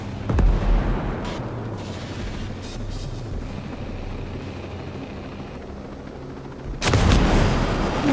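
Enemy missile fire in Ghost Recon: Breakpoint, with a heavy blast early on and another loud whooshing burst near the end, separated by a rumbling engine drone and faint distant booms.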